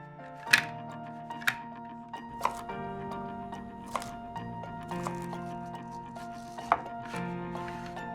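Knife chopping vegetables on a cutting board in a kitchen, a series of distinct crisp strikes spaced about a second apart over a steady background hum.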